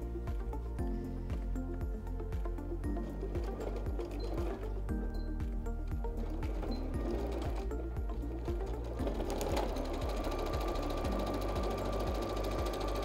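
Sewing machine stitching felt for a lingerie holder, a steady rapid run of needle strokes lasting throughout, close and even, with no talk.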